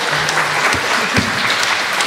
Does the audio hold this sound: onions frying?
no